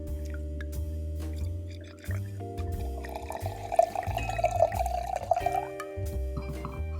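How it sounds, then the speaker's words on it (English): Wine pours into a glass with gurgling and dripping, the pitch rising as it fills, over a quiet background hum. "let's do some ASMR pouring"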